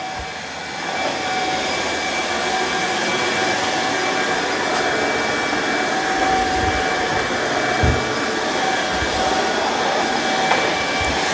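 A Tineco Floor ONE wet dry vacuum cleans a floor with a loud, steady motor whine and rushing airflow roar, close and continuous throughout.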